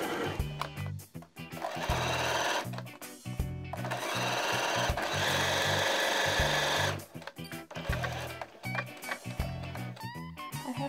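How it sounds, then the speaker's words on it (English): A sewing machine stitches a dress made over from a shirt, running in loud bursts of rapid mechanical chatter that start and stop repeatedly, with one long steady run in the middle and short pauses between. "I'm going to go in the machine now and sew it."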